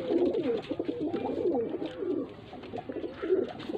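A Faisalabad low flyer breeder pair of pigeons cooing close by, soft repeated throaty coos in a steady rhythm, no talk over them.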